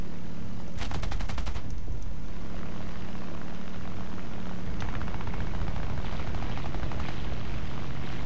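Rapid bursts of aircraft gun-pod fire in War Thunder, with a short fast rattle near the start and a longer stuttering burst later, over a steady engine drone.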